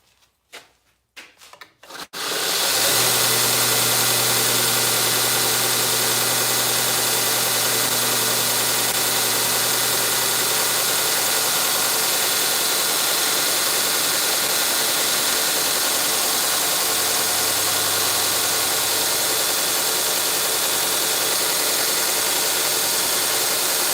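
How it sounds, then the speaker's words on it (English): A knife blade being finish ground at 120 grit on a belt grinder, a steady loud abrasive hiss over a constant motor hum that starts after a brief clatter and runs unbroken to the end, with no talking. "That's what we've got set up on the grinder over here."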